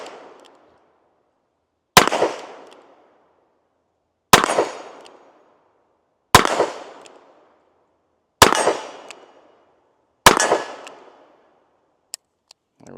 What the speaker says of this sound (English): Go ahead and go to some single action shots.